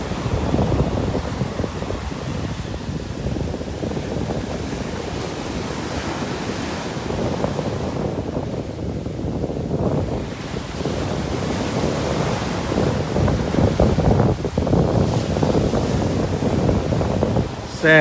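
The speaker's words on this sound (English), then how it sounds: "Even the waves are beautiful." Ocean surf rolls onto a beach in steady, continuous washes, with wind buffeting the microphone throughout and no talk over it.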